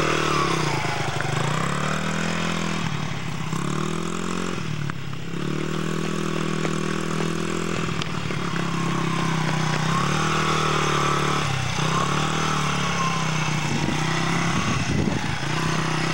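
A motorcycle engine runs continuously as the rider gives it gas, a loud steady drone with pitch rising and falling as the throttle changes.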